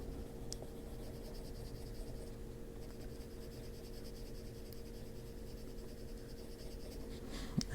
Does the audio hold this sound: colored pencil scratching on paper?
yes